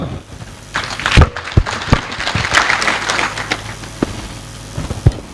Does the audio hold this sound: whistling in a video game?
no